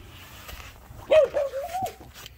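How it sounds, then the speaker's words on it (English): A small dog lets out a short whimpering yelp followed by a drawn-out whiny bark-howl, close and fairly loud, near a shop where work is being done on a 1988 Honda CRX. "you are a beautiful little dog"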